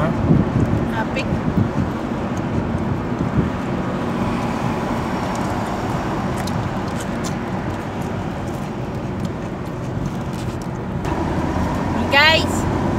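Steady road traffic on the road toward Sharjah Airport, a continuous broad rumble of passing cars with wind buffeting, heard from inside or beside a vehicle, with a short chirp near the end and voices in the background.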